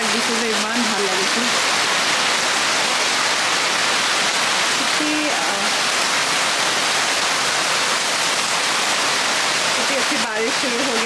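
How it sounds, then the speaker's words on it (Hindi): Rain falls in a constant, even rush of noise in NRL Township, Assam, India, with a few short bursts of voices over it. "बारिश शुरू हो गई है"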